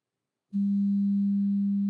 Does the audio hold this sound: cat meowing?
no